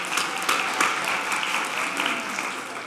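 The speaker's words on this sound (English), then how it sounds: "How about a round of applause for Girls Rock Camp?" An audience at a panel discussion on rock music applauds Girls Rock Camp, a steady wash of many hands clapping from a moderate distance that holds for a few seconds without a break.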